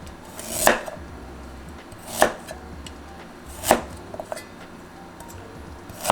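A knife chops through ginger on a cutting board for a Chinese-style pepper steak, three sharp, evenly spaced strikes ringing out clearly over quiet kitchen background with no talking.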